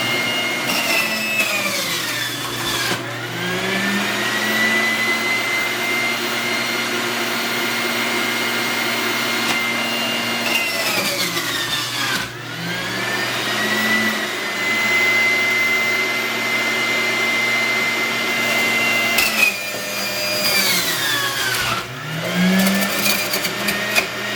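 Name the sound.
Breville home juicer running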